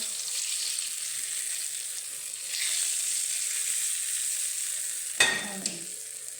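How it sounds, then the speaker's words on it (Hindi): Steady, close sizzling of cumin tempering in hot ghee crackles throughout, with a sharp clatter and a brief burst of louder frying near the end. "अब इसको हम ज़ीरे का तड़का लगाएंगे।"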